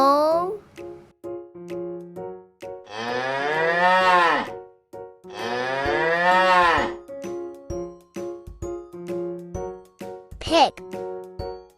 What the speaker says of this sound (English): Can you say cow?